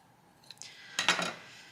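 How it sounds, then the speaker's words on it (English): Scissors snip through crochet yarn in two quick, close cuts, preceded by faint handling clicks, in an otherwise quiet indoor setting. "cut this yarn"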